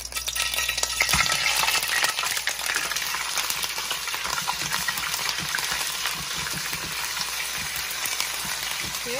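Beef ragout with okra stirred in hot oil, a constant loud sizzle with scraping and clinking of the spoon against the pot, no talking.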